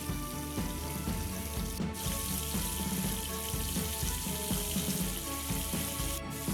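Fish frying in a pan over a high gas flame, a steady close sizzle and crackle that runs without a break, with faint clinks and no talk.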